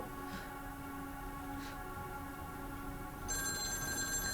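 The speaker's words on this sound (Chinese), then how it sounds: "这时候电话响起" A telephone rings in the horror video game The Medium, a bright electronic trill that cuts in near the end over a steady, low ambient hum.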